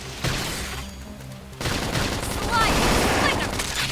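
Gunfire in the Xenoblade Chronicles X video game: bursts of rapid shots and booms layered over game music, continuous and moderately loud, with a sharp onset partway through.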